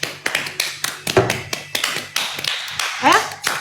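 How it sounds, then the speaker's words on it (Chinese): Several pairs of hands clap in a sharp, uneven series of about a dozen close, crisp claps during a Valentine's Day live stream, with a faint voice briefly near the end. "谁要拍手啊？这好烦呐！"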